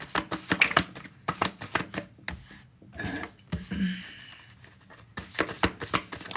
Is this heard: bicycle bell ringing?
no